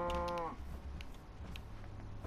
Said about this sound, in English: Just get these cows.